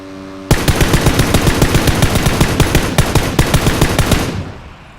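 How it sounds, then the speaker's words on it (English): Rapid automatic gunfire in the video game Battlegrounds (PUBG), a loud sustained burst of evenly spaced shots lasting about four seconds before fading out. "Someone's actually shooting at him right now, I think."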